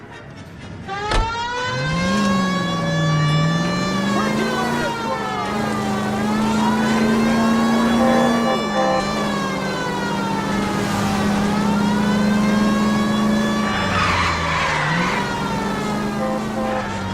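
A car in L.A. Noire drives hard through the streets, its engine loud and steady with rising and falling pitch alongside a wailing siren, alone without any talking.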